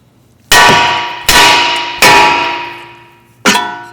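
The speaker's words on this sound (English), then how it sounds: "get a hammer and hit it right here on the steering knuckle side" Four hard metallic clangs from a hammer striking a car's steering knuckle to loosen the outer tie rod end, each blow ringing out and decaying, close and loud with uneven gaps between strikes.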